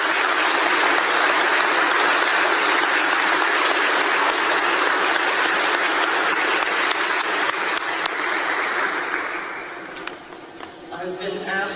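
Sustained audience applause fills a hall at a college athletics hall of honor induction ceremony, steady and dense for about ten seconds before thinning out near the end.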